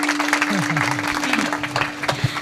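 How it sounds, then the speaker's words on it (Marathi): Applause from the audience at a kirtan held for a housewarming ceremony, steady clapping filling the short stretch, with a voice speaking over it throughout. "निदान टाळ्या तरी वाजेचा कोणासाठी."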